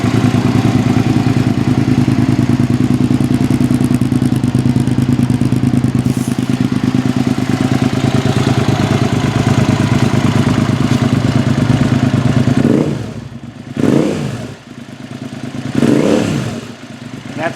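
Loud 2005 Suzuki SV650 engine with an aftermarket Delkevic SL10 slash-cut exhaust, deep and throaty, holding steady revs before dropping off and surging up in two sharp revs to about 5,000 RPM near the end.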